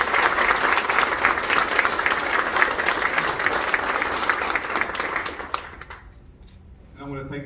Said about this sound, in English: I want everyone to join me in a big round of applause